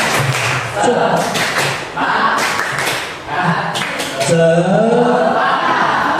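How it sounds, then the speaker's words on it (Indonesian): Primary classroom children doing a rhythmic tepuk semangat clapping chant, bursts of group clapping in patterned beats alternating with children's chanted voices, loud and close, ending in sustained chanting. "Bapak ada tepuk ya, tepuk semangat ya."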